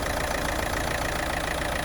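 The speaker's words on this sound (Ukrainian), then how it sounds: "двигун працює гарно" A Renault Megane GT-Line engine idles steadily, a constant mechanical hum with a faint knocking texture and no voices.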